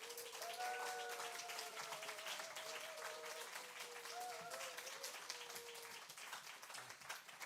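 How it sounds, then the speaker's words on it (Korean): A church congregation at a Sunday service claps warmly to welcome a pastor coming forward, a dense, steady wash of applause lasting several seconds with faint sustained tones beneath it. "뜨겁게 박수로 환영해 주시면 감사하겠습니다"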